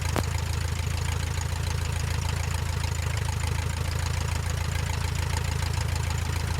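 A Luscombe light aircraft engine idles while back taxiing on the runway, a steady loud low-pitched rumble with a fast even throb, close and continuous, no talking.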